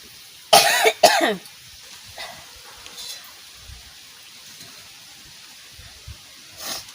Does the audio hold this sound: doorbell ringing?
no